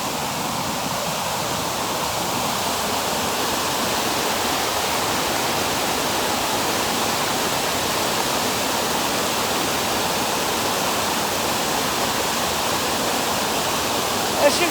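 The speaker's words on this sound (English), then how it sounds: "As you can see, this waterfall" Small waterfall about eight feet tall pouring over bedrock into a pool, a steady close rush of falling water that holds evenly throughout with no voices.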